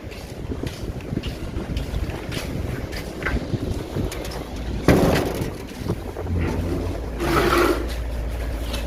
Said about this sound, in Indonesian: untuk aliran angin terasa lebih kencang dengan pengoperasian genset